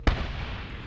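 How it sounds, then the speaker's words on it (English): A grenade explodes in the Medal of Honor video game, a single sharp, loud blast followed by a short rumbling, crackling tail, heard alone. "Let's chuck a nade in there."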